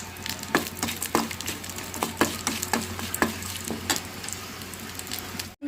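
Tempering (talimpu) for chutney sizzling in a pan: a steady hot crackle punctuated by regular sharp pops and stirring clacks, close and fairly loud, with no voices.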